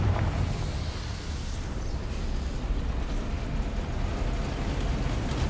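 A fiery Confringo spell blast in Hogwarts Legacy, a loud rumbling, roaring explosion with a sharp onset that stays dense and continuous for several seconds, no voices over it.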